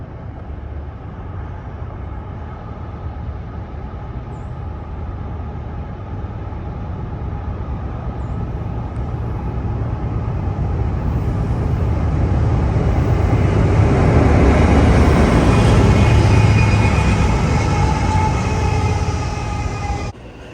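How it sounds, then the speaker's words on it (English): An intermodal freight train crossing the Saluda Trestle near Greenville, South Carolina, in thick fog, a steady rolling rumble that swells louder as it nears and then holds, heard alone. "the Saluda Trestle confidently guiding this train through the thick fog"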